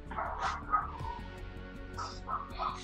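A dog barks repeatedly in a steady run of short, fairly close woofs with a few higher yips, carrying on across the whole stretch with no talking over it.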